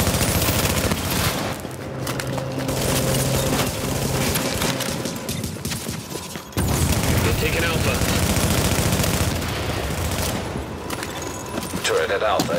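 Sustained gunfire at a fortification in the video game Tom Clancy's The Division: dense, loud bursts and rattling shots pile up almost continuously, with a brief lull midway before the barrage resumes.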